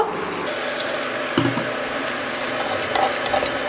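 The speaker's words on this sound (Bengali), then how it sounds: "দিয়ে অল্প জল দিয়ে মশলাটাকে ভালো করে কষিয়ে নেব।" A small splash of water poured into ground cumin and pulao spices frying in a pan, a brief pour near the middle over a steady background sizzle.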